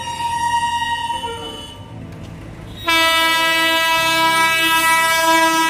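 The Jagannath Express passenger train at a station on the Shalimar to Puri route, with a loud sustained horn that cuts out and returns as a strong steady blast over rumbling rail noise, close by and with no talking.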